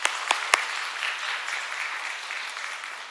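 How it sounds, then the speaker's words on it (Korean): A church congregation applauds during a Sunday service, opening with a few sharp claps before settling into steady, moderately distant clapping that slowly fades. "격려 박수 해주시기 바랍니다."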